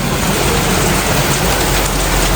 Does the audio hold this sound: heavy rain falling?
yes